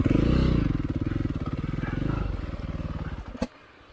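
A KTM 500 motorcycle being ridden, its engine giving a close, rhythmic thumping pulse that holds steady and then eases off, ending with a sharp knock.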